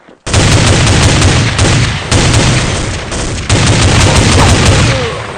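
Loud, dense gunfire from Counter-Strike 1.6 rattles in sustained bursts of rapid shots with brief gaps, close and continuous throughout.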